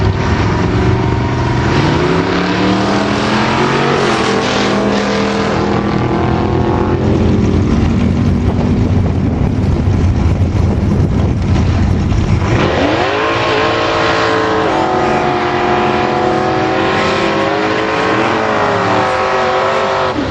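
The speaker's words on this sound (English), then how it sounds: "right-hand lane, 1965 GT 350 Mustang" A 1965 Ford GT 350 Mustang roars down a drag strip, its engine loud and close as it winds up through rising gears, with a brief dip before another hard acceleration surges past.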